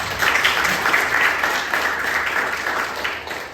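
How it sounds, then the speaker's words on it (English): Applause from an event audience for the host and speaker, a fairly loud, close burst of many people clapping that swells quickly and then eases slightly toward the end. "So let's give him a round of applause."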